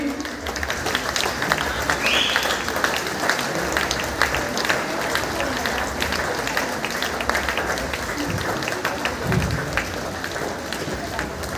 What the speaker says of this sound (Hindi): आज के मुख्य अतिथि का जोरदार तालियों से स्वागत और अभिनंदन करें।